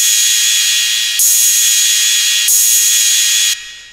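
A crash cymbal sample from a house phonk track made in FL Studio rings out as a loud, bright, hissing wash, with fresh hits at a steady interval before it cuts off.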